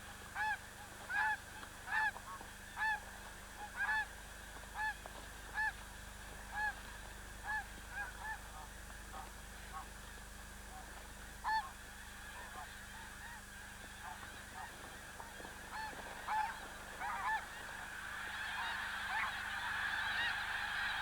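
Geese honk repeatedly in a snowy winter setting, their calls coming in a regular stream of short, quiet cries that carry from a distance over a faint background hum.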